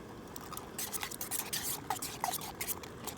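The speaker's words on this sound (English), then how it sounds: "bacon's burning off nicely" Bacon sizzling in a camping cookware pan: a steady, close hiss of frying fat with quick crackles and small pops scattered through it, and no voices.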